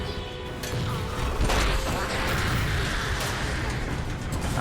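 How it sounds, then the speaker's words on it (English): Fire and explosions in the Halo 4 video game: a dense, continuous roar of crackling blasts, impacts and rumbling mechanical noise stays loud throughout, with a sharp burst near the middle. "So much like in Halo 1, fire and explosions."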